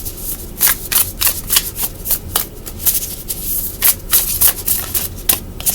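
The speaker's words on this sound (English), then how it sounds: "So hard to shuffle this deck." A deck of tarot cards is shuffled by hand in a quick, uneven run of crisp riffling bursts, close and loud, with no voices.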